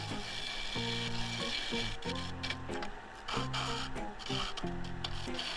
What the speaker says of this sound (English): straight into sanding, and yeah, run this at super speed because I really don't like sanding